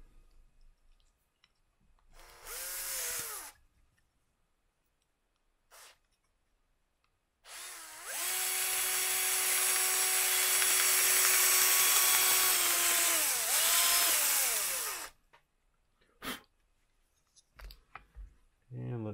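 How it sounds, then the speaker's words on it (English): A power drill bores a hole one bit size larger for a grommet on a Hubsan Zino drone battery mod: a short whining burst, then a long steady high-pitched run that sags in pitch before stopping. "Just gonna drill it out."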